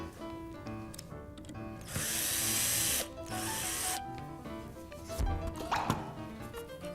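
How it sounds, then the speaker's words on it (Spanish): A power drill bores through a laminated board to take a screw in a furniture workshop. It makes a loud, steady whine over about two seconds, pauses, then runs again, with thunks and tool handling noise at the end. "vamos a perforar la placa y vamos a colocar un tornillo"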